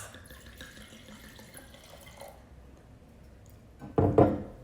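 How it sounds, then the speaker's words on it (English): Sauvignon Blanc pours into a glass in a short, splashy gush near the end, following a quiet stretch of faint room noise and small handling sounds. "I'm going to pour myself a glass"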